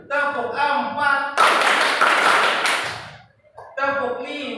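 A class claps together in rhythm during an Indonesian classroom lesson, a burst of loud broadband clapping lasting over a second between stretches of a voice counting aloud.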